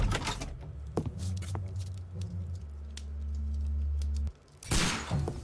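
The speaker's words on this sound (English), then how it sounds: "The hell? Gunshots. Hit the deck." Rapid bursts of gunfire in the video game Sherlock Holmes: Crimes & Punishments crackle over a droning electronic tone, with a sharp loud volley near the end.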